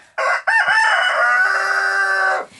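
A rooster crows loudly and close by, one long drawn-out call lasting about two seconds.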